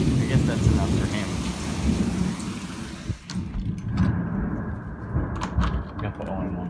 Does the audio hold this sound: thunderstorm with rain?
yes